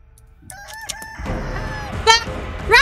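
Video game chicken sounds from Chicken Feet: a few short clucks and a squawk over a quiet start, then a loud rumbling rush followed by two sharp, loud crowing cries near the end.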